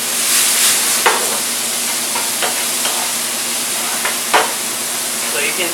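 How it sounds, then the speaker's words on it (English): Green peas sauté in a hot pan with a steady broadband sizzle, broken by a few sharp scrapes and clicks of stirring, loud and close with no talking. "Saute them nicely. We're gonna add a little bit salt here on the green peas."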